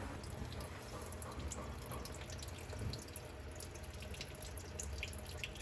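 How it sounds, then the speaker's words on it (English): Coolant drains from the radiator of a 1970 Chevy Nova in a steady, faint, continuous trickle of liquid with a soft low background rumble and no voices. "gonna get the radiator drained down below the intake line here"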